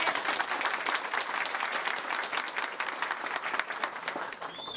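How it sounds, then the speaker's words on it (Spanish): Sustained applause from a crowd, loud continuous clapping with a faint voice or whistle near the end. "Un aplauso."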